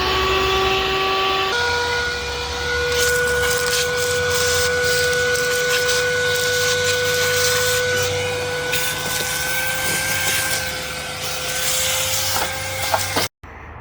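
A shop vacuum sucks up debris, including rat droppings, under the hood of a 1990 Dodge Caravan with a 3.3L V6. It runs as a loud, steady motor whine with tonal hum and rattling intake for the whole stretch, then cuts off abruptly.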